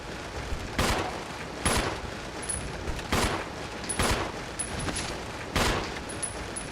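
Gunfire in Resident Evil 0: about six separate sharp shots spaced roughly a second apart, each a loud crack over a low background hum, with no voices heard.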